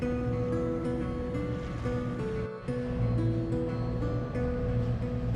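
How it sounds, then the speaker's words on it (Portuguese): Rough, agitated sea rushes and churns around a sailboat near Gallipoli, a continuous loud roar of water and wind noise with no clear breaks. "hoje o mar ainda tá bem agitado, vou mostrar pra vocês"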